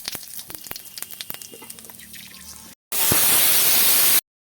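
Potatoes frying in oil give a low, crackly hiss broken by small pops, then whole spices (bay leaves, cumin, cinnamon, cloves and cardamom) hit the hot oil in a sudden loud, bright sizzle lasting about a second before cutting off.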